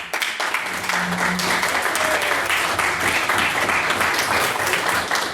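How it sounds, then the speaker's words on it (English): Sustained audience applause at a debating society event, a dense steady wash of clapping filling the room after a maiden speech on open relationships, with no talk over it. "Could we please get another round of applause for another marvellous maiden speech?"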